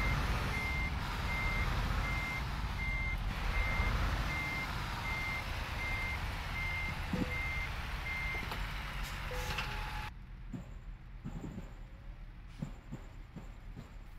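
Loaded truck in a truck driving video game reversing, with a steady, evenly repeating backup beep pulsing over low engine rumble and rain-like noise for about ten seconds, then quieter ambience with a few clicks.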